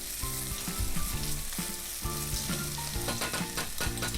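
Finely chopped leek and green pepper fry over medium heat in a pan, giving a continuous dense sizzle that holds steady throughout, with a tonal backing running alongside.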